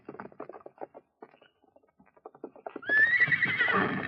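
A horse in a 1950s Western radio drama: rapid hoofbeats clop close by, then a loud, shrill neigh and whinny ends the sequence, with no talk over it.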